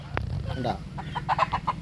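Free-range country chickens in a fairly large yard give a quick run of close, soft clucks, with a brief spoken word just before.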